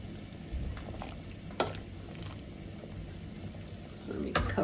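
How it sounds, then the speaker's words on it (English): Chicken boiling in a pot on a home stove, a low bubbling simmer with occasional clinks and bumps of a lid or utensil, with a voice talking over it. "The chicken is boiling."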